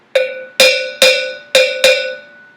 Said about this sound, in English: we also have instruments from West Africa, like the bell.